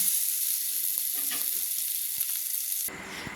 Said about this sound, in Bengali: আলুগুলো আমার ভাজা হয়ে গেছে, একটু লাল লাল করে আলুগুলো ভাজা হয়ে গেছে।